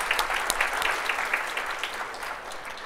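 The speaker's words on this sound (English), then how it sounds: "can we have a round of applause for those guys?" Applause from a seminar audience fills the room, a dense burst of clapping heard up close and continuing steadily throughout.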